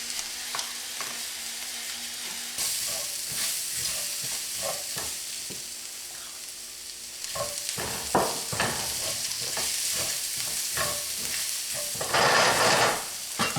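Mushrooms and browned onions sautéing in a pan with salt and pepper: a steady close sizzle broken by frequent scraping, clattering stirs that grow busier and louder near the end, with no talking.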